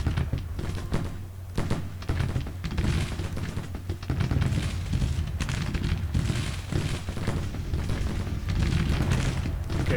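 Artillery battery cannon fire in the Civil War strategy game Grand Tactician, firing canister at close range: repeated deep booms and thuds roll on continuously, loud and dense, like an ongoing battle.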